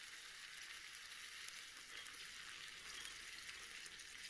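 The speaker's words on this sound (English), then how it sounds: "the mixture will rapidly bubble when added." Hot caramel in a pan bubbling as cold heavy cream is added, a steady, fizzy hiss of bubbling without pauses, fairly quiet and close with no talk.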